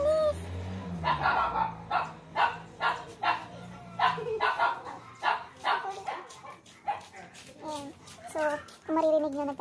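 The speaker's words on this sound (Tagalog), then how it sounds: "Maririnig nyo, nagtatahulan na yung mga aso ng kapitbahay kasi nga may dumaan na asong gala." Several neighbourhood dogs bark and yip in repeated bursts at a moderate distance, with a voice and other talk mixed in, set off by a stray dog passing by.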